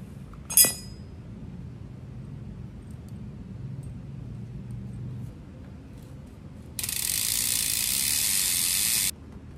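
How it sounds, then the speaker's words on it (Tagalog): A wrench tightens a Favero Assioma MX-1 power meter pedal onto a mountain bike, opening with a sharp metallic clink, then quiet ratcheting and a long burst of hissing noise near the end. "pagkakabit nyo na yung power meter pedal na to, ang gagamitin nyo is wrench"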